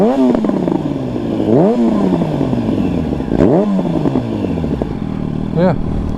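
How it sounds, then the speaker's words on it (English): A Yamaha FZ1N motorcycle fitted with a Remus exhaust revs up and down repeatedly, with loud rising and falling engine sweeps heard close by. "Let you hear the sound of this remus pipe."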